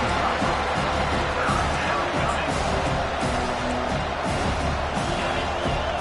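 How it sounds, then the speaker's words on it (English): A large home crowd at a Miami football game roars and cheers on third down, a dense continuous wash of crowd noise with a commentator talking over it. "Here comes this home crowd as the defense tries to get off the field on third down."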